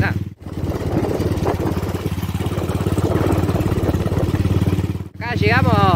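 Gilera Sport motorcycle riding on the road to a vintage motorcycle meet, its engine a steady, close, pulsing drone with two brief dips in level.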